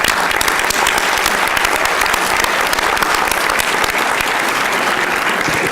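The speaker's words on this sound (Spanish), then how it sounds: "Un aplauso, por favor." A crowd at a legislative press conference claps continuously, a dense, loud and even wash of applause throughout with no letup.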